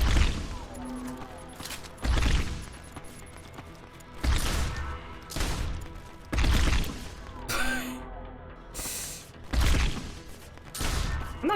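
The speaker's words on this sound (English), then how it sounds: "I'll just have to shotgun you, I guess." Heavy shotgun blasts from Deus Ex: Human Revolution ring out about six times at steady intervals of roughly two seconds, each a loud booming burst with a short tail, over low game ambience and occasional voice sounds.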